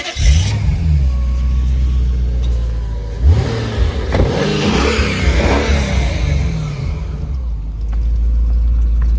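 A car pulls out of a Paris parking garage, its engine idling and then revving in a few rising bursts as it drives off, loud and close in an echoing space with no talk.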